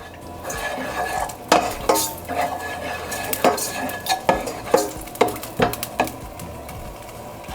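Garlic ginger paste sautés in a karahi of oil for mutton karahi, with a low sizzle beneath repeated sharp metal spatula scrapes and clanks in an uneven rhythm.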